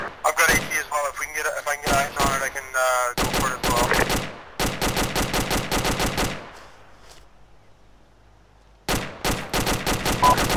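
Machine gun in the video game Arma 2 firing long bursts of rapid, loud, close shots, the bursts broken by short gaps and a quieter lull before firing resumes sharply.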